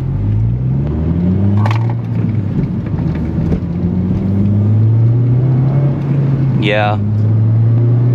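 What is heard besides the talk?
Honda Civic Si race exhaust revving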